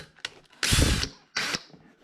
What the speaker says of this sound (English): I then took a 1/4" drill bit, centered in one of the eyelets.